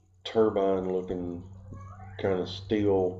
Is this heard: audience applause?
no